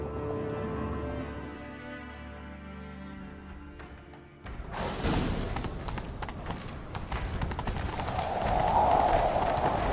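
Hooves clatter in a fast gallop in The Witcher 3: Wild Hunt after a musical passage, with a busy, rushing background growing louder toward the end.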